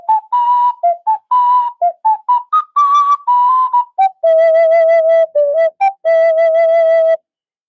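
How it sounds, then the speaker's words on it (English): An ocarina plays a lively run of clear, pure whistling notes, close and loud, in short phrases that end in longer held tones, with no talk. "Oh, my ocarina. Loud noises incoming."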